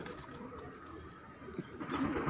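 Pigeons kept for sale coo softly through a noisy, rumbling background, with a low murmuring call that grows a little toward the end.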